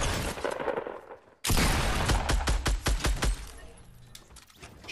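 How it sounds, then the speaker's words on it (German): A machine gun in Fortnite lets off a rapid burst of loud, close shots in quick succession, with sharp cracking impacts. A muffled stretch of game noise comes before it. "Schieß doch bitte nicht mit dem MG auf mich."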